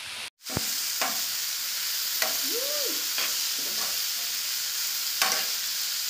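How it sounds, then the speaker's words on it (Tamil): Cabbage and carrot stir-frying in a pan for vegetable noodles: a steady close sizzle throughout, with a few soft stirring scrapes and clinks at intervals. "காய்கறி கொஞ்சமா வேகிறது"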